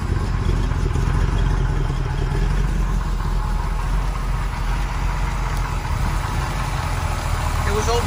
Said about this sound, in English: Let's see if she'll stay running for a minute.